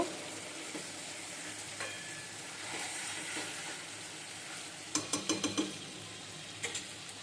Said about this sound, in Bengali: আমি আলু দিয়ে দিয়েছি এখন ভালো করে কষিয়ে ভাজা ভাজা করে নেব